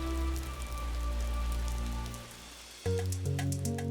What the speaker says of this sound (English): It was kind of unnerving to be standing underneath the massive boulders as the rain poured down.